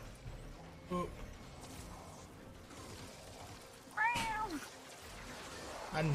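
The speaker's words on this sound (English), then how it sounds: "I hear the cat downstairs." A cat meows somewhere downstairs, two faint, distant calls a few seconds apart, the second a longer wavering cry, over quiet room noise.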